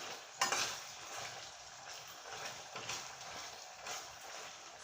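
Cooked onions with ginger and garlic fry gently in a pan for a south Indian chicken curry, giving a steady soft sizzle with occasional stirring scrapes and one sharper clatter near the start.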